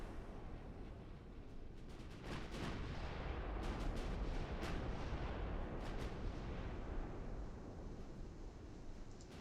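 Naval guns firing from warships in a Royal Navy battle game, a dense, continuous roar of overlapping booms, with sharper individual shots cracking through about every second.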